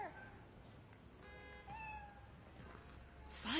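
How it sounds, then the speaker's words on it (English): A cat meows in the Spider-Man video game, a few clear rising cries in the middle of the clip over quiet game ambience, with a brighter burst at the end. "My Spider-Man, you know, my cat, took a liking to you"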